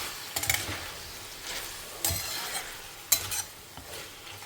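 Broccoli tossed and stirred in a frying pan, a soft sizzle under a few sharp scraping stirs of a utensil against the pan.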